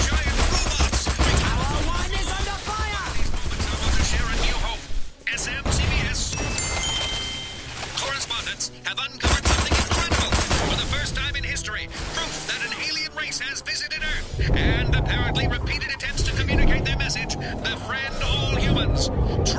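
Army tanks and troops attacking in the video game Destroy All Humans!: dense, loud gunfire and explosions rumble continuously with roaring engines and aircraft-like noise, broken by brief dips, while voices speak over the battle.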